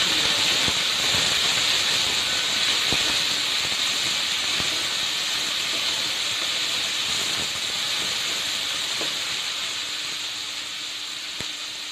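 Chopped onion sizzling in a hot pan for a cheera thoran, a loud, steady hiss that slowly eases off toward the end, with a few faint clicks and no voices.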